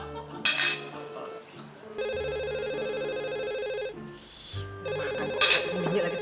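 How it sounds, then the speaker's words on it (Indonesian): A landline telephone rings in a quiet home at mealtime, its electronic bell sounding in two long bursts separated by a pause, with faint clinks of dishes and cutlery before and between the rings. "Makan kok bunyi lagi tuh telepon."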